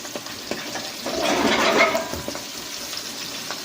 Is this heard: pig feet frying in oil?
yes